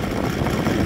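An OS Sirius 7 FR7-420 radial engine converted to gasoline with CH CDI ignition idles at around 1,000 to 1,200 rpm, giving a brief, even, rough running hum.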